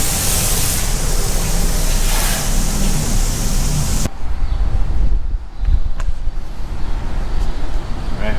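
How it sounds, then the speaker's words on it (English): Strong outdoor wind roars steadily against the microphone during a wash of a BMW F80 M3, a loud broadband rush that drops abruptly partway through and then continues gusting, with voices faintly beneath. "This wind's making it hard, right?"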